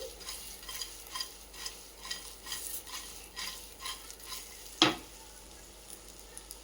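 Paneer 65 fries in a pan over full flame, sizzling softly while a spoon stirs it in regular scraping strokes, with one sharper clack of metal near the end; no one speaks.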